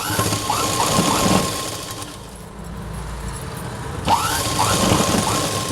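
A sewing machine runs in two fast stitching bursts while sewing a children's petticoat, a close mechanical whir with a steady hum, separated by a quiet pause in the middle.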